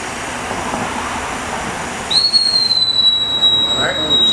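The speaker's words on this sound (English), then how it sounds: "You should hear a whistle." Halfway through, a shrill, steady whistle starts and holds: the low-air warning as the purge is opened on an air cylinder of a fire company's confined-space rescue air cart, rising above a constant hiss of background noise.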